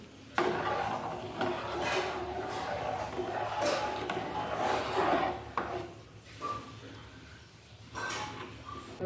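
A spoon stirs gandhabhog rice payesh in a pot, giving soft rubbing scrapes and light knocks against the pot in uneven strokes, close and fairly quiet, with a voice now and then.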